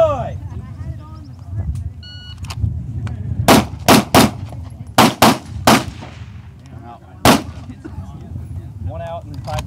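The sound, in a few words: gunshots at shooting range targets, 7-yard line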